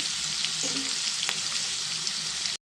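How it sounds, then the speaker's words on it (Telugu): Ivy gourds frying in hot oil in a pan make a steady, close sizzle with a faint clink partway through, and the sound ends abruptly. "దొండకాయలు ఫ్రై అయిపోయినాయి కదండి"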